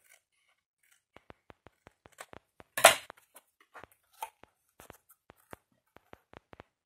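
A pen traces a line and scissors then cut through card in a sparse series of short, crisp snips and scratches, with one louder cutting stroke in the middle. The sounds are close and quiet, with no talking.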